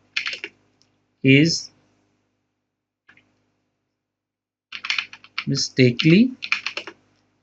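Typing on a computer keyboard while filling in a tax revision form, a rapid run of close clicks in bursts, mixed with someone talking.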